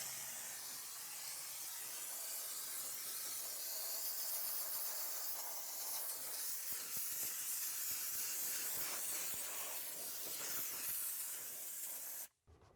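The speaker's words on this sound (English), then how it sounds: "this will actually give you a full disinfection by using hot steam" A steam cleaner jets hot steam over a car's interior surfaces, a loud continuous close-up hiss with slight fluctuations that cuts off abruptly near the end.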